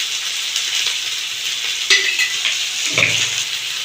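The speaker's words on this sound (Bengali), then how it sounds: "পেঁয়াজটা আমি না ভালো করে ভেজে নেব" Onions sizzle steadily in hot oil in a pan with bay leaf, green chilli, salt and a little sugar for an egg curry, with occasional clinks of a spoon stirring against the pan.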